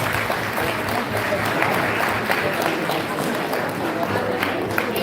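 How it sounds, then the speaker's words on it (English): Applause from a temple congregation for children who have just performed, a dense, even wash of clapping sustained throughout with voices mixed underneath. "Give them a big round of applause."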